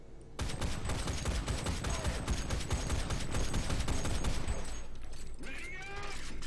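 Sustained automatic gunfire from a tank's anti-aircraft gun raking the side of a Soviet T-26 light tank in War Thunder, a dense rapid burst lasting several seconds before fading, followed by mechanical creaks and clanks.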